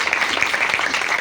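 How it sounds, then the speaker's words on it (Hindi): A church congregation claps together in a dense, continuous wash of applause, steady and fairly loud throughout with no voices standing out. "जो नहीं लाए वो इनके लिए इतनी जोर से ताली बजाएं जितनी आपने पहले कभी नहीं बजाई"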